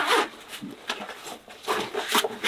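The zipper on the inner flap pocket of a Savotta Jääkäri XL rucksack is pulled in several short, close, rasping strokes with fabric rustle between them, with no talking.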